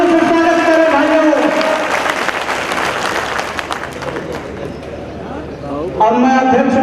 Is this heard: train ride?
no